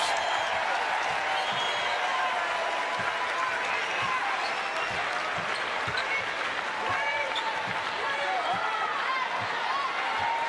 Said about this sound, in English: Now Clark, a little dribbling exhibition. Crowd approves